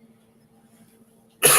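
A single sharp, loud human cough bursts out at the very end after near silence, from someone recovering from an illness.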